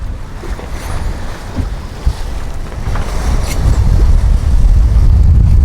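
A sailboat pushes through rough sea in about 15 knots of wind, with waves rushing and sloshing against the hull under heavy wind buffeting on the microphone, loud and close, swelling toward the end.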